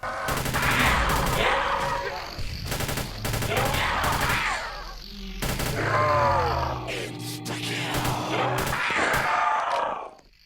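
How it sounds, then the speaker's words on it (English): Masada rifle fire in the Roblox game Project Lazarus, rapid loud bursts of shots repeating in several volleys amid chaotic battle sounds and grunts. "the volume for the fire sound effect was reduced even more"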